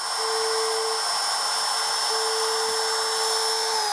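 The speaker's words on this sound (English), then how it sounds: "That little 1/16 inch router bit did a really good job at cutting in that slot" Small router fitted with a 1/16 inch bit cutting a narrow slot into a guitar body, giving a steady high-pitched whine that holds at an even level throughout.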